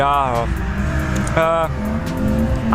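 Cars drifting on a wet drift track, engines revving and rising in pitch in repeated surges with tyre noise, loud and fairly close, while a person talks over them.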